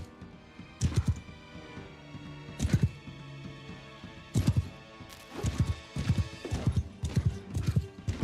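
Horse hooves clip-clop in a video game, in irregular bursts of heavy thudding steps with short pauses between runs, fairly close, with a faint steady backdrop behind.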